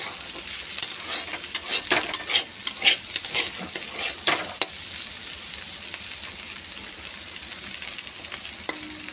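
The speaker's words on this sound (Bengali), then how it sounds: "করলা ভাজা হচ্ছে এখন।" Sliced bitter gourd (karela) fries in a home kitchen pan with a soft, steady sizzle, broken by scraping stirs and clinks of a spatula, louder in the first half and quieter later.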